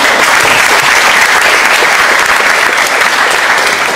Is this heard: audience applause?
yes